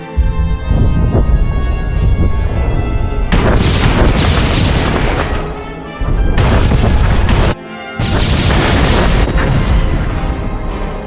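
A battle in Star Wars: The Old Republic, with loud, dense blasts and continuous booming fire filling the scene, broken by two brief lulls.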